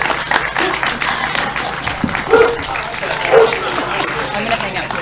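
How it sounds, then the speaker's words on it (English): An audience at a talk in the Appalachian Trail Museum applauds, steady close clapping for several seconds with a little crowd murmur mixed in. "So if everyone could please give a warm round of applause for Sarah."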